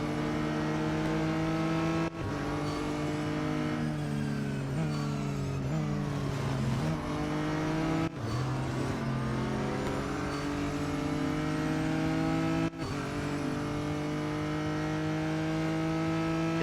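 A McLaren race car in the Real Racing 3 video game, its engine revving loud and close and climbing through the gears, with sharp drops at each shift and the pitch sweeping up again.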